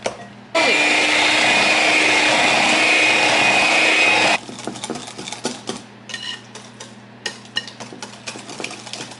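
Baking batter being mixed in a bowl with a loud electric mixer, a steady whir for about four seconds, then lighter scraping and clinking of utensils against the bowl.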